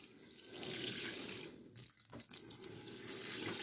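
Water poured onto soil over a newly planted dahlia tuber, a close, continuous rushing splash with a brief break in the middle before the flow resumes.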